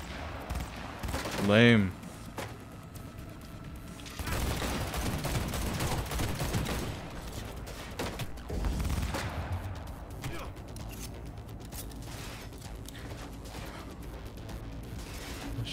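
Gunfire in the video game Cyberpunk 2077, bursts of rapid shots and crashes over game ambience, with a voice speaking briefly over it.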